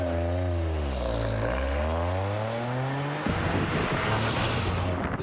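Toyota Gazoo Racing car with one tailpipe per cylinder, its engine rising and falling through revs with a close, growly tone, then settling into a rough, loud idle.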